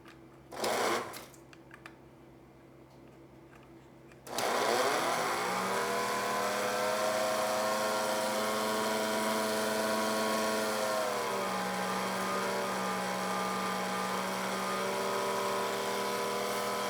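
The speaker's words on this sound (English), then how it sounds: "This has an elevator that takes the coal up to here so that it can be transferred into another line over there." A model train set's coal elevator runs, its little buckets lifting coal to the top: a steady mechanical whir with a humming motor tone that starts abruptly after a few seconds of quiet and continues evenly.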